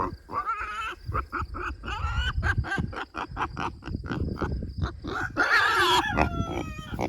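Guinea hens and chickens on a farm calling together, a dense, close stream of rapid squawking and clucking cries with harsh chattering bursts throughout.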